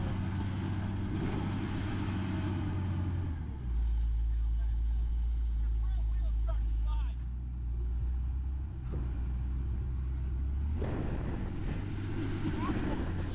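A stuck vehicle's tires spin in flour-like slop, giving a loud continuous low rumble and churning with wind buffeting the microphone, while people talk nearby.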